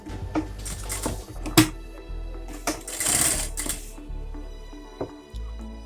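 A sewing machine stitches a small cushion with piping, its motor running in short uneven bursts, nearby and fairly loud, with fabric-handling clicks and pauses between runs and no talking.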